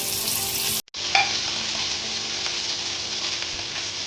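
Finely chopped green chilies and cumin crackle and sizzle loudly in hot oil for paneer bhurji, a dense steady frying hiss that cuts out for an instant near the start and then continues unbroken.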